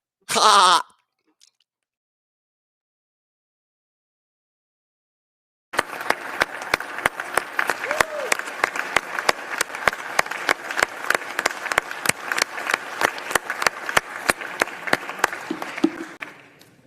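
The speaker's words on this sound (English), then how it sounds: "let's give them a round of applause, but you've already done that" Audience applause fills a hall with dense, sustained clapping that rises after a brief burst of sound and a few seconds of silence, then carries steadily to the end.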